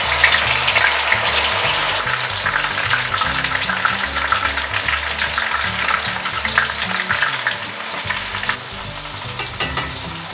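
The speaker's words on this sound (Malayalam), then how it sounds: "നല്ലൊരു ഗോൾഡ് കളർ ആവുന്നവരെ നല്ല ഫ്രൈ ആവണം" Ingredients for Kerala beef dum biryani fry in hot oil, giving a loud, close, steady sizzle with bubbling crackle and occasional stirring, with no talking.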